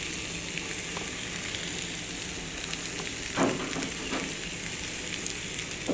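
Chopped green chilies and ginger sizzle steadily in hot oil in a pan, a constant close crackle with a brief louder spatter midway and no talking.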